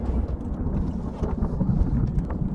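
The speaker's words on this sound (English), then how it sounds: "You've got storms in the distance and a little bit of lightning too." Distant thunder from a thunderstorm rumbles low and steady, with rain-like hiss and scattered crackles on top, no voices present.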